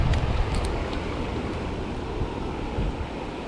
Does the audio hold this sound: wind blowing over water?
yes